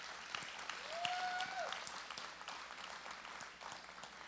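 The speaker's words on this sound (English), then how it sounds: "We really love a round of applause for Evergreen Federal Bank." A round of applause for a bank sponsor at a community celebration evening, steady and moderately loud throughout, with a faint whistle or voice rising briefly near the start.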